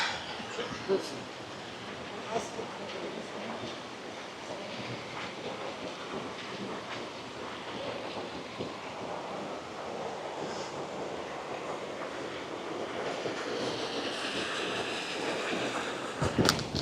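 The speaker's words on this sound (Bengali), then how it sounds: "ঝর্ণার আওয়াজ" A waterfall in an Atlas Mountain village in Morocco makes a steady broadband rushing roar, with wind buffeting the microphone and a few faint knocks mixed in.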